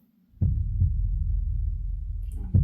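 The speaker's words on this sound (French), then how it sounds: "il y avait le cœur qui battait" A heartbeat sound effect from a TV series throbs as a low, muffled pulse that starts after a moment of near silence, holds as a steady deep drone and thumps again at the end.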